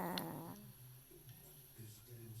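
Low, rumbling snoring from a sleeping pet repeats in slow breaths, close by, with a brief voice-like sound at the start.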